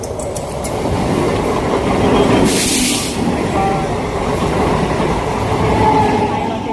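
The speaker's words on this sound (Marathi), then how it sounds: "समोरूनच ट्रेन येते" A train rumbles past close by, a steady rolling roar with rhythmic wheel clatter and a brief hiss of brakes midway.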